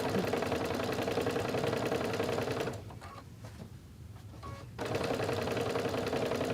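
A sewing machine stitches a table runner with a steady, fast mechanical whirr. It stops for about two seconds midway, then resumes at the same pace, loud and close, with no voices.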